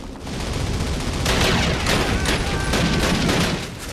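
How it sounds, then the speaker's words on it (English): A video game firefight fills the air, with dense, continuous gunfire and rapid overlapping shots from many enemies, loud and sustained without a break and with no voices. "which means there's a lot of bullets flying"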